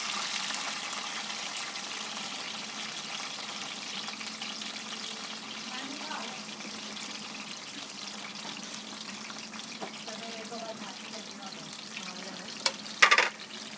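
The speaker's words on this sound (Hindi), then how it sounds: "तो अब घी को गर्म करते हैं, फिर प्याज वगैरह थोड़ा सा ब्राउन कर लेंगे।" Onions fry in hot ghee with a low, continuous sizzle, a few soft stirring clinks mixed in, and a short louder clatter near the end; no one speaks over the cooking.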